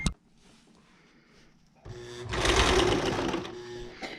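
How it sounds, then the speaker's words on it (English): A sewing machine stitching boat cushion fabric starts after a quiet pause, its motor whirring and needle clattering in a loud, steady run that eases off toward the end. "now we can start sewing"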